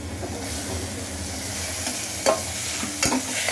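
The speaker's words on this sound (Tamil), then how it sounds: "நல்லா வதங்கிடுச்சு இப்போ வந்து தக்காளியை போட்டுடலாம்" Tomatoes go into fried onions in a pan and are stirred, giving a continuous close sizzle with a couple of sharp scraping clicks from the spoon, and no talking.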